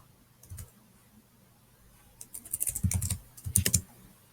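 Keys clack on a computer keyboard as an email address and password are entered, first a few scattered taps, then two quick, fairly quiet bursts of typing.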